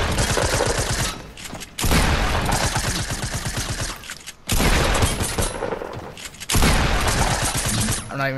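Video game gunfire comes as long dense bursts of rapid shots, loud and close, broken by brief gaps, with faint talk in between.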